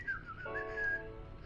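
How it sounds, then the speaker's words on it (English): A person whistles a short tune of a few sustained, wavering notes, clear and close, with no talk over it. "Maybe I should start whistling."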